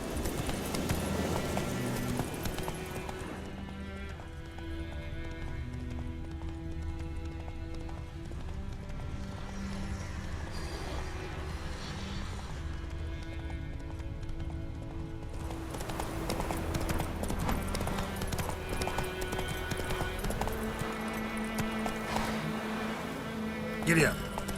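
Roach, a horse in the video game The Witcher 3: Wild Hunt, gallops in a rapid, steady clip-clop of hooves over a continuous game soundscape and music, with a voice speaking now and then.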